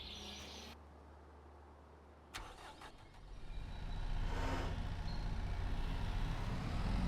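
A skid steer in Farming Simulator 25 turns over with a short mechanical clunk, then its engine settles into a low, steady rumble that grows louder and keeps running.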